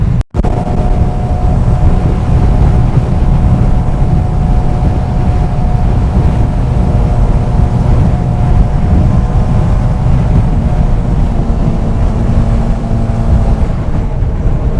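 A Benelli 600i motorcycle engine gives a loud, steady, close droning roar with a faint humming tone, buffeted by wind noise throughout. No clear rise or fall of a pass is heard.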